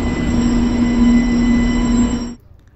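A train rumbles loudly nearby with a steady high squealing whine, then cuts off abruptly, leaving quiet.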